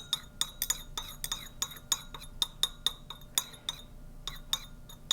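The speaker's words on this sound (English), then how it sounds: "when I stir it takes longer for the crystals to dissolve" Repeated bright glassy clinks of a stirring rod against lab glassware while crystals dissolve, a quick irregular tapping rhythm, close and fairly quiet with a short pause near the end.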